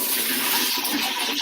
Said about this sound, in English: Rinse it out a little more.